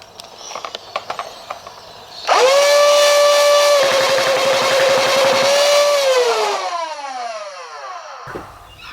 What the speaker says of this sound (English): what we've got here is a Rapidstrike motor and loom kit